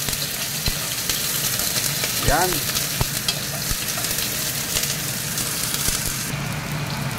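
Sautéed ingredients for a meat dish being stirred in a pan under a dense, loud, steady sizzle, with occasional knocks of the utensil and a brief spoken word.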